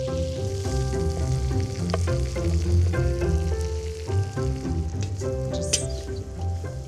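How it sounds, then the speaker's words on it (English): Cauliflower and shallots sizzle steadily in melted butter in a pan, a close, continuous frying hiss with occasional light scrapes from stirring; no one speaks. "As soon as the butter has melted, then I'm going to add in the cauliflower and the shallots."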